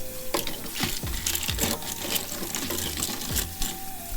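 Tap water splashes steadily while lip gloss tubes are rinsed under it in a strainer, with a continuous spatter and gurgle and occasional light knocks of the tubes, close and fairly loud.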